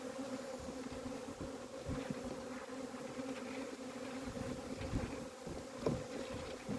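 Honeybees swarm and buzz around an opened hive during frame inspection, a dense, steady drone close by with occasional louder passes of individual bees, and no voices.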